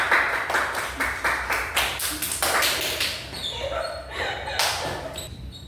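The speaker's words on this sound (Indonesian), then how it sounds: "Terima kasih kelompok 1. Beri tepuk tangan dulu" A classroom of students claps for a group during a microteaching physics lesson, scattered rhythmic claps that thin out into irregular taps, with brief voices and squeals among them.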